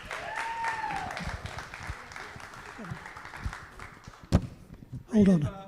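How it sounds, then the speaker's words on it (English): An audience at a live concert at White Horse Black Mountain claps in a moderate, scattered wash for several seconds, thinning out with a sharp knock and a voice speaking near the end. "You can clap now"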